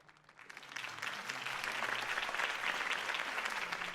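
A large crowd applauds steadily in the video game Batman: Arkham Knight, the clapping swelling from a quieter start into a dense, sustained roar of hands that holds to the end.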